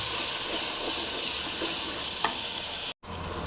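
Asafoetida and tomato sautéing for drumstick leaf rasam: a steady, close sizzle with faint stirring scrapes that cuts out abruptly near the end, then resumes.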